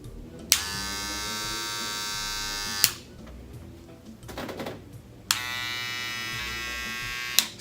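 Wahl cordless hair clippers buzz steadily in two separate runs, each switched on with a click, with a brief rustle between them.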